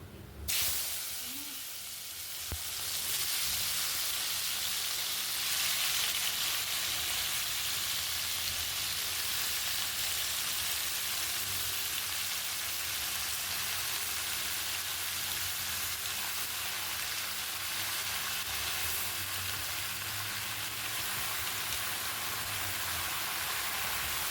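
Chopped tomatoes sauté in hot oil with asafoetida for a tomato pickle, a steady, rain-like sizzle and hiss that starts after a brief clatter and holds evenly for a long stretch with no voices.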